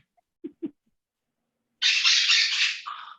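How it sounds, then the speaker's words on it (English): Pet birds calling indoors: two short squawks close together, a pause, then a longer loud harsh screech that trails off, close by with no talk. "my birds are so bad today"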